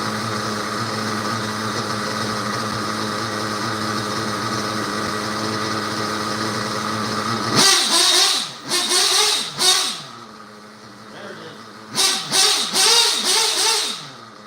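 A small RC model engine on 20% fuel settles into a steady buzzing idle for several seconds, then gives a series of sharp throttle blips and revs that rise and fall quickly, loud and close.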